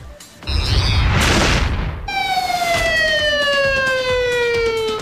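Fire truck sirens arriving at a house fire on Halcon Street in La Loma, Quezon City: a loud rumbling burst gives way to a steady, slowly falling wail that carries strongly and close.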